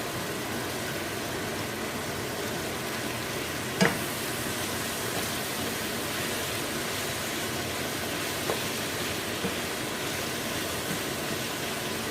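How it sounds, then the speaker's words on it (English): Chopped onions and peppers fry in a pan for enchiladas, giving a steady, even sizzle close by with a single brief clatter partway through and no speech. "I'm going to add my onions and peppers."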